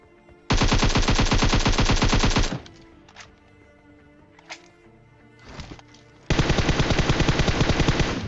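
Automatic weapon fire in the PUBG video game comes as two long rapid bursts, loud and close, with scattered single shots and a quiet stretch between them.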